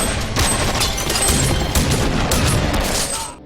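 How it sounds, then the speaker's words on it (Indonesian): Gunfight in an action film, with a dense, continuous barrage of loud gunshots and crashing impacts layered over a cinematic score, cutting off abruptly at the end. "tembak-tembakan."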